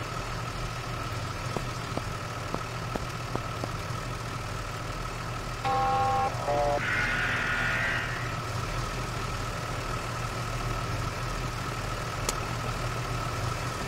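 A fire engine idles with a low steady rumble in the firefighting video game Into The Flames, joined midway by short beeping tones and a brief mechanical burst, no speech.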